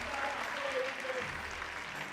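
Crowd applauding and cheering for a female climber at the 2024 IFSC Oceania bouldering finals, a steady, fairly distant wash of clapping lasting the whole moment with no break.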